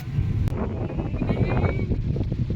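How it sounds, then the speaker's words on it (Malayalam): Steady wind buffets the microphone with a low, rumbling roar that continues throughout, at Malampuzha Dam. "നല്ല കാറ്റുണ്ട്"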